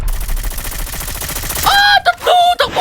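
Loud gunfire from a shooter video game, a dense rapid rattle of shots followed by sharp bursts mixed with tonal in-game effects, close and dominant.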